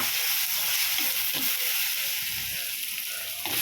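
Tomatoes and onions sautéing in a pan for a chapati gravy, giving a steady, close sizzle with soft hiss that holds at an even level throughout and has no talk over it.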